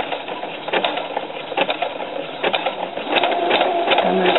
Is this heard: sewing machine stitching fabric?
yes